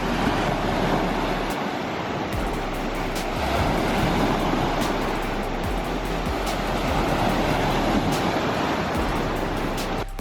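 Steady rushing surf with waves washing onto a Lake Superior shore at Pictured Rocks, continuous and fairly loud, with some wind noise on the microphone.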